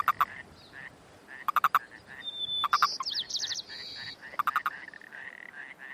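Male Yosemite toads give short, chuck-like release calls in quick bursts of three to four pulses, repeated several times. Faint chirping and insect-like sounds run in the background outdoors.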